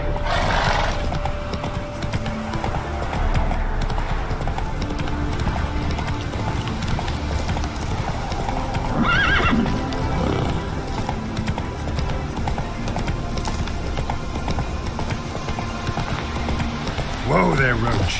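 Roach, a horse in The Witcher 3: Wild Hunt, gallops with rapid rhythmic hoofbeats and gives a couple of neighs, under game music and occasional voices.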